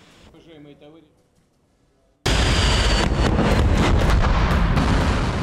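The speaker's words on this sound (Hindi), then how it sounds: "ये रूस की यार्स इंटरकॉन्टिनेंटल बैलिस्टिक मिसाइल है।" A Russian Yars intercontinental ballistic missile launch: after a quiet stretch with faint voices, a sudden loud, sustained roaring blast erupts and continues at full strength to the end.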